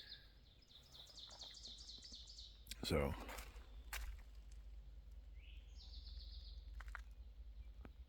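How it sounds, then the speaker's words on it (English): Birds chirp in Pennsylvania woods, with repeated high twittering phrases near the start and again later, fairly faint and distant, while a person speaks briefly and makes a few closer rustles or footsteps in the middle. "Nothing but birds at the moment."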